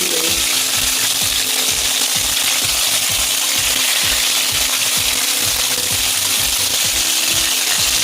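Fish frying in hot oil sizzles steadily and loudly throughout, with a dense crackling hiss and occasional pops, close by and without talk.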